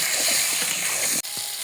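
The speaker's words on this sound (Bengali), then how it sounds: "আলুগুলো দিয়ে দিলাম, এগুলো এখন ভেজে নিব খুব ভালোভাবে।" Potatoes fry in a pan with a steady, loud hiss and sizzle that keeps going almost without a break, apart from one brief dip near the end. No one speaks.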